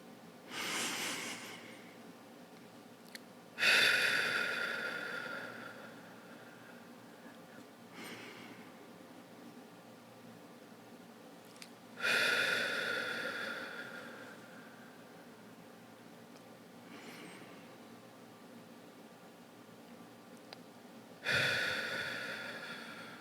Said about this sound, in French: on prend 3 bonnes respirations